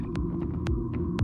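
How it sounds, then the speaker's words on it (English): Fully electric Audi Q6 e-tron producing a low, steady throbbing hum with pulsing undertones and a few soft high swishes, continuous and close, with no talking. "That's the sound of the fully electric Audi Q6 e-tron."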